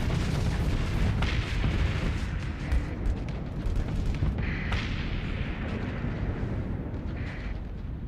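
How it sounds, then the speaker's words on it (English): Main cannon of the Musashi ship firing in the space game Starsector, a dense, continuous rumble of heavy booms and blasts with no pauses, loud and full throughout. "that's the main cannon from the Musashi guys"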